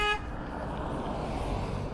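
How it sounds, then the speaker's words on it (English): A car horn gives one short, loud toot at the very start, then cuts off into a steady rumble of road and engine noise with no talk. "Literally no reason to honk."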